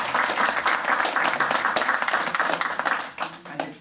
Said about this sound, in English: You need to give them a big round of applause.